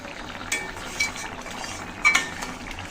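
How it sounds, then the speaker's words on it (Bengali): A metal lid is lifted off a cooking pot of potato and eel curry, giving a few sharp metallic clinks and a ringing scrape over a faint background hiss from the stove. "ঢাকনা তুলে নিচ্ছি।"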